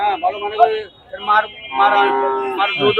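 A cow at a crowded cattle market in Shahapur, Dumuria, Khulna, lets out loud, drawn-out moos close by, with people talking in the background.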